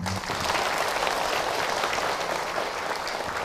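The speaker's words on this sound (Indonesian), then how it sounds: "tepuk tangan untuk Ahilman" An audience applauding a speaker at a religious talk gathering, steady dense clapping that holds evenly throughout at moderate distance, with no voices over it.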